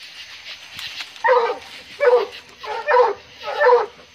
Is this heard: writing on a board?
no